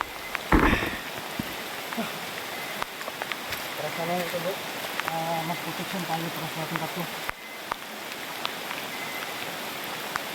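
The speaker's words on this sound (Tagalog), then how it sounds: "Lakas na ng ulan." Heavy rain pours down with a dense hiss throughout, while a person talks quietly in Tagalog over it for a few seconds in the middle.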